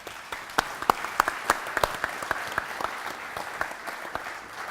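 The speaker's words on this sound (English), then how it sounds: "How about a round of applause for our panelists?" Audience applause for panelists at a global supply chain summit, a moderately distant round of many hands with scattered sharp individual claps standing out, continuing steadily without talk.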